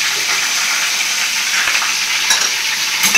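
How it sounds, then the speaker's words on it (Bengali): Raw mango pieces stir-fried in mustard oil with turmeric and salt hiss in a steady, loud sizzle, with a couple of brief scraping clinks from the stirring utensil near the end; no talking. "ভালো করে একটু নাড়াচাড়া করে আমটা একটু ভাজা ভাজা করে নেবো"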